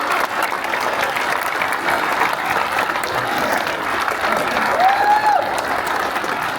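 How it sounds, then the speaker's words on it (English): Another round of applause from an audience at a celebration of life honoring Adam the Woo, sustained even clapping that holds steady throughout, with a brief whistle near the end. "can you give another round of applause?"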